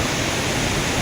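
Rushing water at the Bahubali waterfall, a steady, dense broadband roar of falling water with no pauses, close and loud, filling the whole moment alone.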